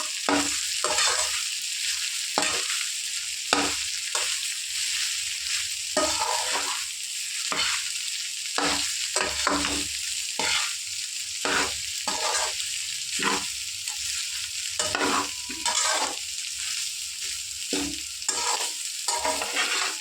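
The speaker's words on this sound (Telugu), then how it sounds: "ఇదిగోండి రైస్ వేసుకున్నాం కదా ఒక్కసారి కలిపేసుకున్నాం మొత్తము" Cooked rice for spicy paneer fried rice is stirred in a hot pan, with repeated scraping strokes in an irregular rhythm over a constant close sizzle.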